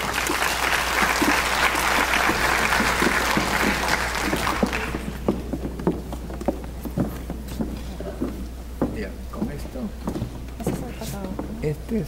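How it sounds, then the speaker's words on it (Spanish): An audience in a hall claps loudly as a speaker comes up on stage for a talk on wastewater treatment, dense applause for about five seconds that then thins to scattered claps under low background voices. "Un fuerte aplauso para ella, por favor."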